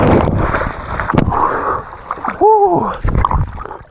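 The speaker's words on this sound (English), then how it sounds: "Let's get in the water." Someone plunges into lake water while swimming off a Swedish island, with loud, close splashing and churning water, wind buffeting the microphone, and a brief voiced exclamation partway through.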